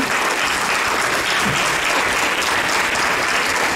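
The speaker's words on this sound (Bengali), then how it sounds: "ওনার জন্য একটা খুব বড় বড় হাততালি।" An audience at a Durga Puja stage event applauding loudly, a dense, sustained wash of clapping from many hands that stays even and close for the whole stretch.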